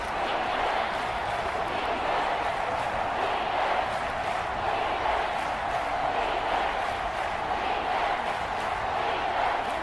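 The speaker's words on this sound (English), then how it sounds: "The Arrowhead crowd in full roar" A simulated Arrowhead stadium crowd roars in an NFL video game, a dense, steady wash of cheering noise held at even level for the whole stretch with no break.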